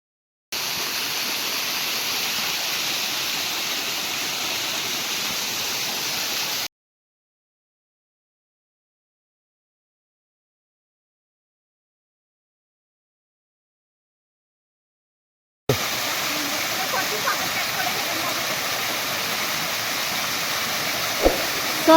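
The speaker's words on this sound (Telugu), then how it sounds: "ఇలా వాటర్ అయితే వస్తూనే ఉంటుందంట ఫ్రెండ్స్, ఎనీ టైం అయితే" Water rushes continuously from an overflowing monsoon stream at a cave temple, a loud broadband roar that cuts out to silence midway and then resumes.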